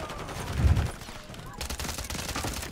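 A Striker 45 fires in Call of Duty MW3, a quick burst of gunfire early on, followed by quieter game sounds under faint talk.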